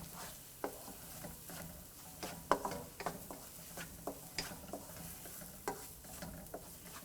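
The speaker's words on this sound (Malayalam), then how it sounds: "അരപ്പിൻ്റെ പച്ചമണം മാറുന്നത് വരെ ഇളക്കിക്കൊണ്ടേയിരിക്കണം" Masala paste for chicken vindaloo being stirred and sautéed in oil: a soft, low sizzle broken by repeated scraping taps of the spoon against the pan, fairly quiet and close.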